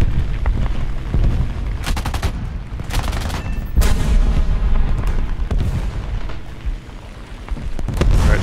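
In War Thunder air realistic battle, .50 caliber machine guns fire in loud, rapid bursts, several separate volleys cutting through the continuous drone of aircraft engine noise.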